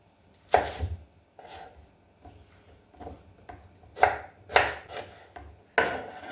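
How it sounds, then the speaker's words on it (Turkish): A knife dices an onion on a cutting board in irregular bursts of scraping, crunchy strokes, close and clear, with short pauses between them and no talking. "Soğanı küp küp doğrayacağım."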